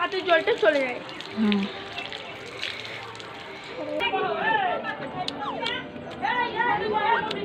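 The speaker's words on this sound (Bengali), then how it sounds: "হাত পা ধুচ্ছি এখন" Water runs and splashes as hands and feet are washed after a meal at a family gathering. The flow stays steady and close, with voices talking over it now and then.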